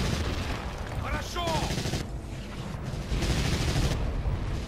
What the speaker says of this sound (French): Le son de la mitrailleuse était un peu bugué, là.